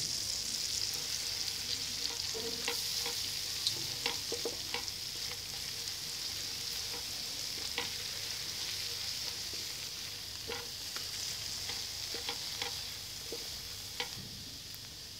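Flour roasts in butter in a pan under steady, continuous stirring with a spoon, producing a soft, even sizzle over the whole stretch, marked by frequent light scrapes and taps of the spoon against the pan.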